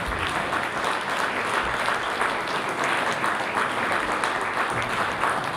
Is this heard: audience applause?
yes